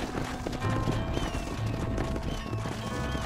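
Horse hooves clip-clopping on the ground, several quick heavy steps repeating in a loose rhythm, fairly close and loud against a busy outdoor background.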